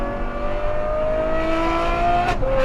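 A Novitec-tuned Ferrari F12 N-Largo V12 revs hard nearby, a rising tonal engine howl that climbs steadily before a sharp gear shift drops the pitch, then carries on loud and sustained.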